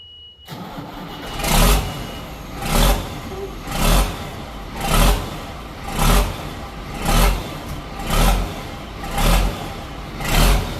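A big turbocharged truck engine cranks to life, then revs hard in regular bursts about once a second, each roar swelling and falling back to idle.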